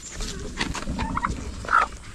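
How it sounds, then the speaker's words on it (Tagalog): Turkeys gobble and cluck nearby, a few short warbling calls over a quiet outdoor background. "Yan mga pabo."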